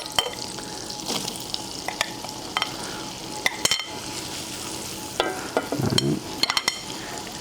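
Onions stirred and frying in butter in a pan, a steady close sizzle with scraping and stirring bursts scattered throughout, no talking.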